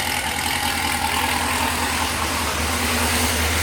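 A Corvette C7 Z06 fitted with longtube headers idles steadily, a deep, loud, even burble with a low rumbling exhaust note and no talking over it.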